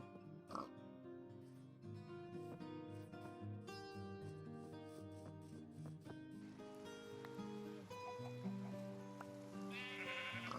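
Minecraft sheep bleating in short, clear calls over dense, steady game music, with several bleats standing out near the start and toward the end.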